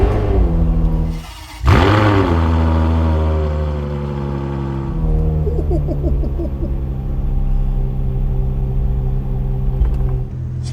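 A Ferrari 599 GTO's V12 engine cranks and fires with a sharp revving bark, then settles into a loud, steady, rumbling idle close by.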